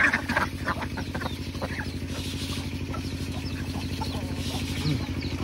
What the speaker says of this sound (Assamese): এতিয়া সিহঁতক ধান দিব লাগে এইফালে ধান আনিলোঁ এতিয়া এই হাঁহখিনিক দিব লাগে